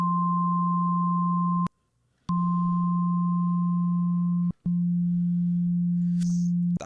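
Steady pure sine tones, a low hum with a higher whistle above it, cut off by two brief silences, then the low tone continues alone.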